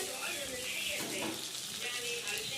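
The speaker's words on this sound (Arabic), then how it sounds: "شوح بقى كله كده، شوح اهم حاجة، شوح كويس" Food sautéing in a pan for Egyptian koshari, a steady hiss and sizzle with light scraping as it is stirred, fairly quiet and continuous.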